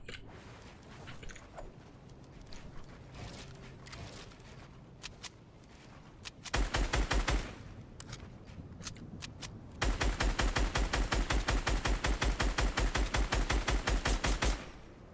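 Rapid bursts of automatic gunfire in Fortnite crackle in quick repeated strings, with scattered single shots and clicks in between, fairly faint overall.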